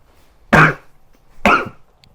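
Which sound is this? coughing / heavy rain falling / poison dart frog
coughing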